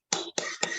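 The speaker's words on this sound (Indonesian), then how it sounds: "Give applause to group 1." Classroom students clap for a presenting group in three sharp, separated bursts, each a crisp cluster of hand claps ringing briefly before the next.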